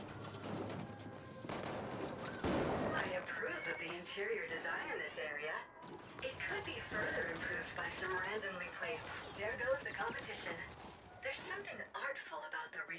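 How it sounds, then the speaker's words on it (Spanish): Bursts of gunshots and automatic fire echo from a distance in The Ascent's cyberpunk world, with crashes and mechanical noise in between; someone talks over parts of it. "Se está liando ya, estoy escuchando tiros."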